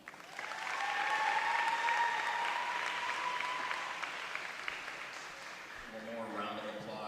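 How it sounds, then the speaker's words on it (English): Applause and cheering from a crowd honoring seniors at a high school volleyball game, swelling loudly for several seconds then tapering off, with a voice briefly audible near the end. "One more round of applause for your seniors tonight."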